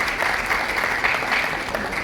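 A crowd gives a short, steady burst of applause welcoming BJP Gujarat state president Jagdish Vishwakarma at a gathering with social media influencers. The clapping is dense and even from start to finish.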